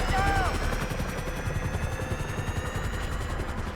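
Gunfire in a GTA video game, with a helicopter overhead and musket shots used throughout, holding as a steady dense roar of shots and rotor noise with a whirring tone running the whole length.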